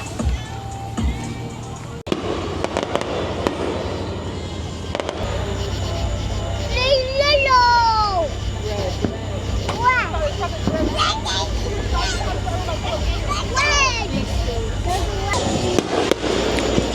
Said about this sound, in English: Someone is doing a full-fledged competing fireworks show at the exact same time.